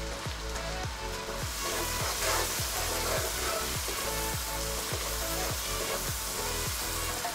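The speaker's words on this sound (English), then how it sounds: "putting in the shallots, chili and garlic which I combed roughly, adding in some salt" Shallots, chili and garlic with salt frying in oil, a loud, steady, continuous sizzle with a regular thumping beat running underneath.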